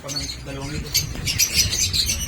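Lutino and cremino opaline budgies chirp and squawk in quick, bright bursts, fairly close, while people talk over and around them.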